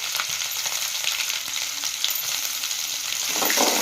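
Cumin seeds fry in hot oil for a tomato chutney, giving a steady, close, continuous sizzle that holds evenly and swells slightly louder near the end, with no voices over it.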